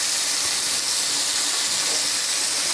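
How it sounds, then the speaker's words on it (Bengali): Onion, garlic and green chili frying in hot oil, a steady loud sizzling hiss close by throughout, with no talk. "এখন তেলে আমি এক এক করে সব জিনিসগুলো ছেড়ে দেবো।"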